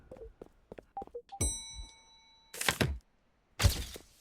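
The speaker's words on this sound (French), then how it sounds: "Il va arrêter de tirer la cloche" A bell being pulled and rung gives one clear struck ding with a long sustained ring, among clunks and thumps, followed by two loud bursts of noise.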